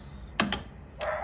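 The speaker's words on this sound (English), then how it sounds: "if you hear it, it sort of clicks" An Asko 1605 dishwasher's timer selector clicks as the power engages, three sharp, close mechanical clicks in quick succession in a quiet room.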